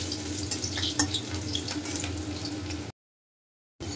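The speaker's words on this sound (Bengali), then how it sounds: "তো আলুগুলোকে ভালো করে ভেজে নেবো।" Potatoes fry in oil in a wok after mushrooms have been cooked, a steady close sizzle with a few stirring clinks, then a short silent gap before the frying resumes.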